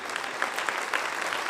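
An audience at a Hindi poetry recital claps steadily, a dense burst of applause heard from within the crowd.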